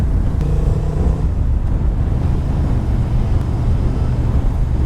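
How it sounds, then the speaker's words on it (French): A two-stroke motorcycle engine purrs steadily while riding through hilly country around the Vichy basin, a loud, constant low drone mixed with wind rumble and no talk. "C'est le ronronnement d'un deux temps"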